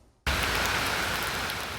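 Relentless rain falls without letup, a dense, steady hiss that starts abruptly and holds at full strength without any voices.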